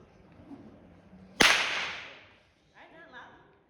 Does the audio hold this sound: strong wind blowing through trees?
no